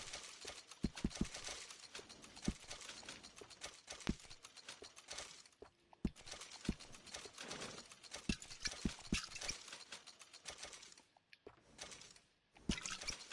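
Horse hooves clip-clop in Red Dead Redemption 2, a steady run of sharp hoof strikes with trickling, watery ambience underneath and some soft game sounds, moderately close.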